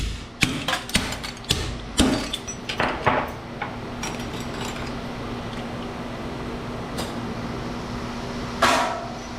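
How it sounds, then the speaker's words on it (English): Sharp metallic strikes ring out in an irregular cluster, then thin out, leaving a steady mechanical hum with a couple of isolated clanks near the end. "give this stuff the hammer treatment"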